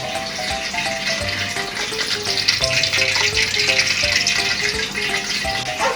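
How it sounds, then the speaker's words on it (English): Oil heating in a pan for frying fish for fish and chips, making a loud, steady sizzle and crackle that carries on without a break, with faint tonal sounds running beneath it. "The oil is getting hot."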